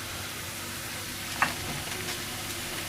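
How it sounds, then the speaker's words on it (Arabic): Homemade potato chips fry in hot oil with a faint, steady hiss and crackle; a single sharp click stands out midway. No voices are heard. "حيدت هذيك الاولى ودرت عاوتاني المقله الثانيه"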